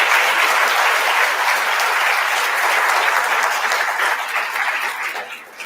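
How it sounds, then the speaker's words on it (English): An audience at a collegiate ethics case competition bursts into sustained applause, a dense wash of many hands clapping that stays full for several seconds before thinning out at the end. "How about a big round of applause?"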